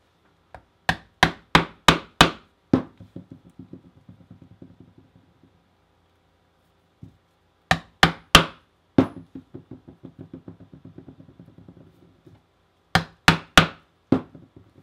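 A leather punch is driven through leather with a hammer: three bursts of sharp, resonant strikes, each a quick run of loud blows followed by lighter rapid taps, separated by brief silences.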